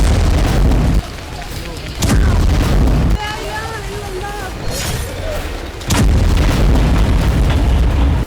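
Booms and bursts of gunfire in war footage of fighting in the West Bank, coming in loud, broad blasts that break through a busy, noisy background with some voices.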